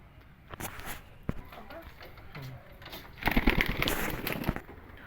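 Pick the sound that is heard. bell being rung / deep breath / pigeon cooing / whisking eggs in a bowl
pigeon cooing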